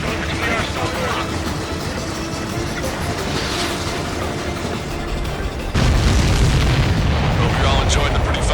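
Explosions in the Ace Combat 7 air-combat video game roll through a dense, continuous rumble of booms and blasts, growing louder and heavier partway through.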